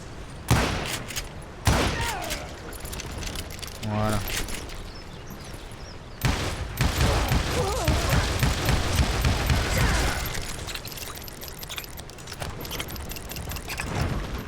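Pump-action shotgun blasts and gunfire in Call of Juarez: Gunslinger: loud sharp bursts and booms come in bursts over game ambience, mixed with someone talking.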